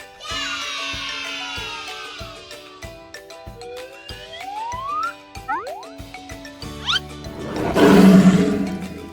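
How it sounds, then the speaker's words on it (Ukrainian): Lion roaring from a children's animal-sound guessing game, a loud sustained roar with shifting pitch, set among synthetic tones and sweeps, swelling into a noisy burst near the end. "Це лев."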